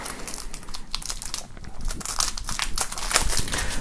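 Plastic shrink-wrap foil crinkling and crackling as a music album box set is unwrapped, with continuous close, loud rustling and sharp crackles that grow busier toward the end. There is no speech.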